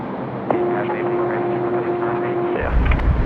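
Aircraft taking off at night from runway 16 right at Sydney Airport, a loud sustained engine whine holding a steady pitch before a deeper roar swells at the end.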